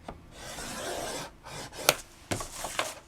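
A bone folder or stylus scoring lines into paper for a handmade tea gift box, giving soft scraping rubs followed by a few sharp taps and short strokes, close and fairly quiet with no talking.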